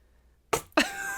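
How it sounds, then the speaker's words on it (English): A single sharp cough bursts out close by, followed a moment later by a second, stronger cough that tails into a short laugh-like rasp, in an otherwise quiet indoor podcast setting. "I now have laugh cough."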